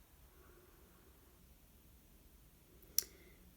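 A single sharp computer mouse click rings out near the end, close and crisp against a faint, quiet background hiss.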